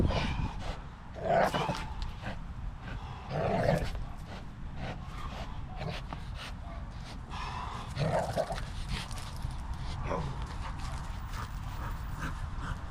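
A reactive pit bull whimpers and yips intermittently outdoors near another dog over steady background noise, with a few louder whines standing out.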